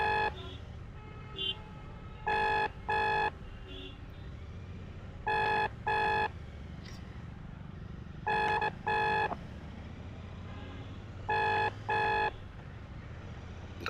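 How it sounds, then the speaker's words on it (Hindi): A bell-like ringing tone comes through a Sena 20S Evo helmet intercom, repeating as four evenly spaced double rings over steady road and wind noise. "आपको भी घंटे की आवाज़ सुनाई दे रही होगी,"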